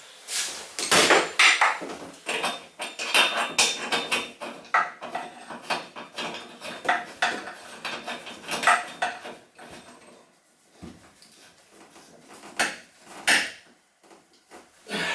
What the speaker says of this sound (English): So, okay, I'll put the flexes on next.